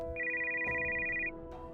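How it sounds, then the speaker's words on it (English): A phone on a counter rings with one clear, steady electronic ringtone tone lasting about a second, with a second ring just starting at the end. "At 8, his phone rang on the counter."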